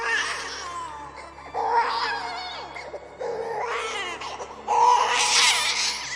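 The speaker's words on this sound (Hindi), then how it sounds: "ये तो बच्चे के रोने की आवाज है।" An infant cries in a cartoon forest scene, three loud wailing bursts separated by brief pauses, with no talking.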